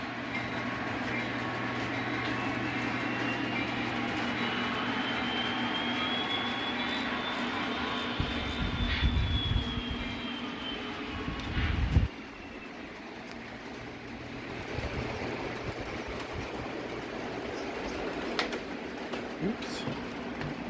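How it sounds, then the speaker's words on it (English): An O gauge model train rolls along a test track with a steady low rumble and rising whine, and a few clacks and bumps over the track work partway through. "So I just reconnect the train and continue the test again."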